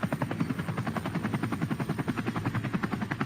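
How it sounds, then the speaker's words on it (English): Helicopter rotor chopping from a news chopper filming a police chase in Irvine, California, loud and close with a steady rapid pulsing beat throughout. "Now we feel like we're in a chopper."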